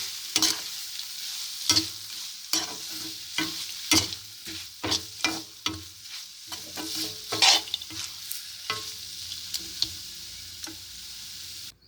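Mango rice mixture being stirred in a pan off the heat, with a spoon scraping through it in repeated close, sharp strokes over a faint background hiss and no talking.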